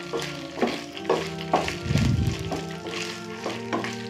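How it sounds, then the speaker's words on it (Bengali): Ginger-garlic paste and onions fry in a frying pan with a continuous close sizzle, as the spatula stirs them in a repeated rhythm. No voices are present. "এরপর এর মধ্যে দেবো পেঁয়াজ এবং তারপর আমরা এটাকে ভালো করে ফ্রাই করে নেব।"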